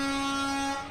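A truck air horn blasts at the Steamboat Days Grande Parade, one loud sustained tone held nearly a second before cutting off, close by and dominating the scene.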